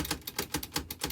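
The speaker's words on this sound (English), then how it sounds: "let me just show you the functionality of the typewriter" A portable typewriter clacks with evenly spaced mechanical strikes, about seven in a steady rhythm, close and crisp with no talk.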